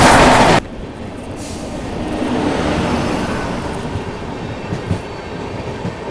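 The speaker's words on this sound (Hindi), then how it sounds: "सामने से आ रही है LTD जयनगर पवन एक्सप्रेस" The Jaynagar Pawan Express passes close by in India, a loud sustained rumble of wheels and carriages rolling past, with no talking.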